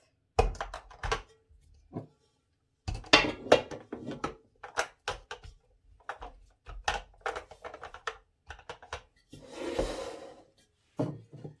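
Glass jars are set one after another into a pot lined with a towel in a home kitchen, giving soft irregular clunks and rubbing knocks, close and fairly quiet, with no talk.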